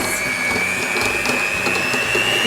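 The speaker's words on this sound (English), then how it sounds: "I was about halfway through my whisking of the butter and the sugar." An electric mixer whisks butter and sugar in a bowl, giving a steady high motor whine with a faint grinding, rattling churn underneath throughout.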